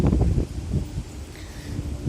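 Wind sweeps across a hilltop at Khao Kradong in Buriram province, a steady low rumbling buffet against the microphone that swells and eases without pause, with no voices over it.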